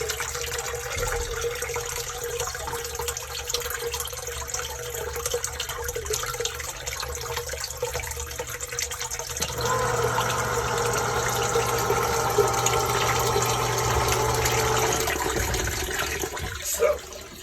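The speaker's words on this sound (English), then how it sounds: "plugged the sump pump back in, and as you can see, it's now sucking the water out" A sump pump pulling water out of a pit after a fix for constant running, a steady watery rush that gives way to a louder droning pump hum with gurgling, close and continuous.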